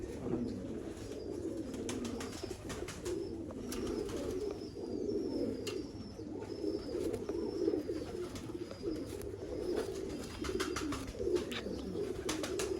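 Pigeons of the Mian Nazir bloodline, a domestic breed, coo steadily from a rooftop loft, their soft throaty calls near and repeating throughout over low background hum, with occasional faint chirps.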